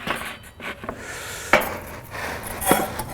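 A metal spatula and a pizza peel scrape and tap against a grill grate while a pizza is loosened and lifted off, with a few close, sharp scrapes and clinks over quiet background.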